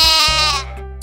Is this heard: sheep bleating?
yes